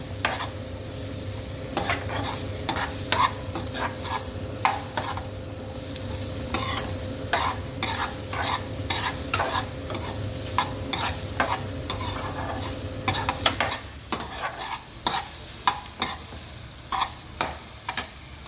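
Garlic sizzles in hot oil in a pan for a paneer dish, a steady frying hiss with repeated scraping stir strokes throughout; the sizzle drops off sharply near the end while the stirring clicks continue.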